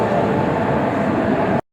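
Steady rumble and clatter of a train at a railway station, near and continuous, as banker locomotives couple onto the Hosapete Express at Karjat; no talking, ending abruptly.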